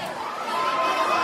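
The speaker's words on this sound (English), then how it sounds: "you can kind of hear the crowd singing along with it" Crowd voices at a concert rise together in a steady, sustained mass, seemingly singing along, dense and continuous with no single voice standing out.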